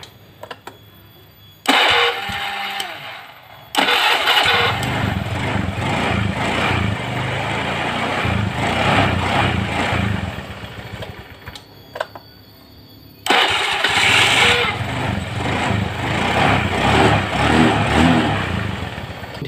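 A Honda Beat carburetor scooter engine cranks and catches, idling with a steady buzzing rumble, cuts off, then starts again and runs loudly up close; its dirty starter dynamo makes a knocking sound.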